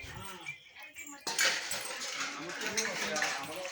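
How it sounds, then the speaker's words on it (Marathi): Dishes and utensils clatter and scrape as they are scrubbed and washed at a home, metallic clinks and knocks growing busier partway through, close by, with people talking over the washing. "ह्या आमच्या वहिनी बघा भांडी घासत आहेत"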